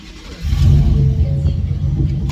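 A turbocharged Ford F150 pickup engine, boosted to 10 psi, idles at first, then revs up into a steady, loud low rumble that holds for a couple of seconds.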